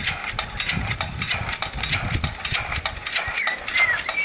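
A two-stroke steam engine runs with an uneven, chuffing mechanical rhythm: quick puffs and knocks with bright hissy bursts, close and fairly loud, no talk.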